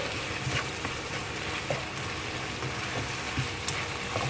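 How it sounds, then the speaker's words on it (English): Pasta and tomato sauce are stirred in a pan, with a steady sizzle of cooking under faint scraping of the spoon, and no one speaking. "And then you give it a good stir."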